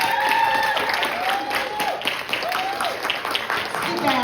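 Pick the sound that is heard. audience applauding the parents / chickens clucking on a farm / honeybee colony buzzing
audience applauding the parents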